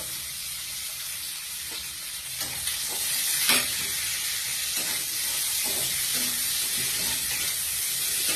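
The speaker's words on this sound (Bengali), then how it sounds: "দেখো এবার আমি কড়াতে তেলের মধ্যে দিয়ে দিচ্ছি পেঁয়াজ কুচি।" Chopped onions sizzle in hot oil in a wok, a steady bright frying hiss with occasional stirring scrapes and spatters, close and continuous.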